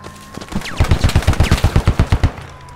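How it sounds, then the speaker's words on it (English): Rapid burst of gunfire in the Squad video game, roughly a dozen loud, evenly spaced shots rattling off close by in a quick rhythm, with a brief lead-in and quieter tail. "Just blind firing."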